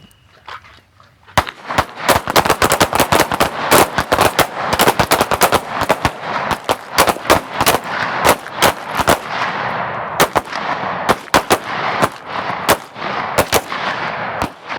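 Pistol shots ring out in rapid bursts during a draw-and-fire training drill, loud and sharp, fired in quick strings with short pauses between, after a brief quiet start.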